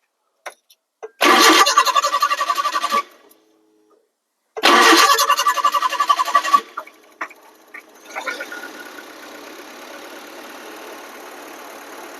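A Maruti Eeco van's engine, running on petrol, cranks and roars to life twice, loud and close, then settles into a steady idle with a few light revs.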